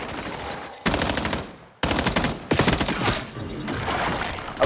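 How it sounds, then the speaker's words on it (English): SMG and assault rifle fire in a Call of Duty match, rapid automatic bursts in several loud close stretches broken by short gaps. "Germ switching back and forth between SMG and AR."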